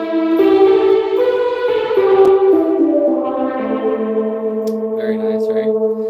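A GM-800 synthesizer plays sustained, chorded notes through a Tumnus Deluxe overdrive pedal, giving a loud, gritty, reverberant tone that holds long notes, with the pitch shifting partway through.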